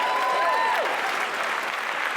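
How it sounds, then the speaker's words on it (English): Sustained audience applause fills the room at a women's chamber event, dense and steady clapping from a crowd with a faint tonal whistle near the start, no talking over it. "Another round of applause."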